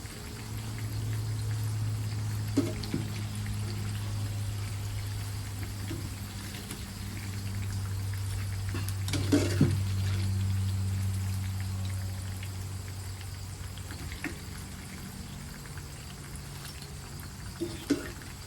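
Medu vada fry in hot oil with a steady, crackling sizzle and bubbling that runs on throughout, over a low hum, broken by a few faint clinks and no talking.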